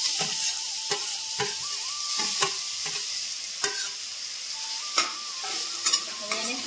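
Grated bottle gourd frying in hot Kankrej cow ghee, a loud crackling sizzle with repeated sharp scrapes and clinks of a spoon stirring against the pan, no voices.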